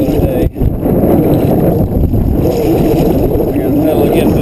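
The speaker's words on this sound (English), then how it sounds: "the wind has gotten really bad" Strong wind buffeting a kayak on a pond in Arkansas, a loud, constant low roar with brief gusty dips, and a person speaking over it.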